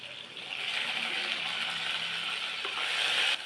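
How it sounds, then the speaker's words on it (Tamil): Sliced okra sizzles steadily in hot oil, a continuous close frying hiss for morbregulating morkulambu (buttermilk curry), with a faint clink near the end. "அதையும் எண்ணெயில் பாயில் பண்ணிக்கலாம்."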